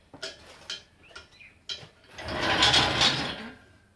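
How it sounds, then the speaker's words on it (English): Bolts on an old 1950s engine are tightened with a ratchet: a few quick clicking bursts, then a longer, louder grinding stretch of rapid ratcheting, close up with no talk. "Tighten up some bolts and we're good to go."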